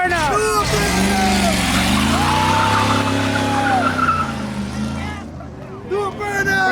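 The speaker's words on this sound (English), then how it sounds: "Do a burnout." A car does a burnout at an Orlando JDM car meet, its tires squealing and skidding loudly and continuously for several seconds with the engine roaring close by, while onlookers shout and talk over it.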